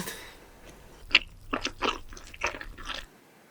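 Chewy rice cakes and dongeurangttaeng patties coated in tomato gochujang sauce are bitten and chewed close up, producing a series of soft, moist crunches and squishes in a quiet room.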